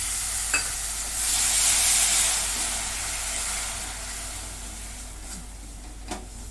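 Jaggery is melted with a little water in a pan for sesame, peanut and coconut chikki. A soft sizzle swells for a couple of seconds, then settles into a quieter, steady hiss, with a few light clinks and no voices.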